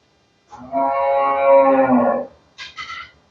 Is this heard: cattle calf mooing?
yes